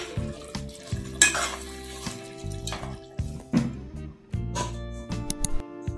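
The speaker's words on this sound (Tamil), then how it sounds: "இப்போ எல்லாத்தையும் நல்லா மிக்ஸ் பண்ணிக்கலாம்." A spoon scrapes and clatters through a spiced chicken biryani mixture with chilli powder in a pan, loud irregular stirring strokes over a soft sizzle, with no voices.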